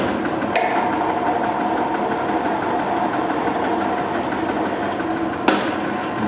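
A lathe takes a 20-thousandths cut on a tensile test specimen under drive-nut feed, giving a loud, steady mechanical whir that runs unbroken, with two brief sharp clicks along the way.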